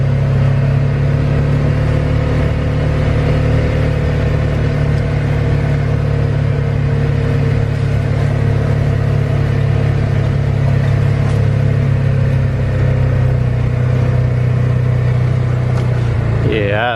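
A vehicle rolls along a small dirt road through a land parcel, its engine droning steadily with a constant low rumble and road noise throughout, loud and close.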